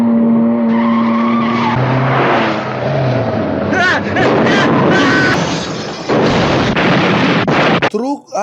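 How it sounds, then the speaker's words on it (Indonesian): Roaring car engines and screeching tires as cars race and skid along a road in a film scene, busy and loud, ending in a sharp crash-like burst, with voices faintly mixed in. "Terlihat di jalan ada Azen dan Tian Bao sedang balapan."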